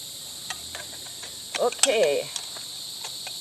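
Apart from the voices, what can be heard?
cicadas chirping inside a house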